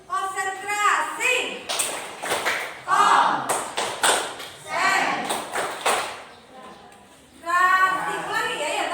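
Children in a classroom do the 'tepuk konsentrasi' clapping routine. Sharp bursts of claps alternate with chanted group voices, close and lively.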